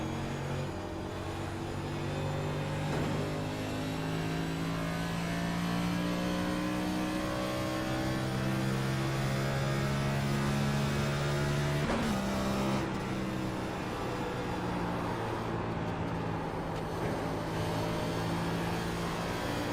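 NASCAR Cup stock car engine on the Homestead-Miami track in a racing game, a loud steady droning roar held at high revs, pitch climbing slightly with one brief dip before rising again, continuous and close.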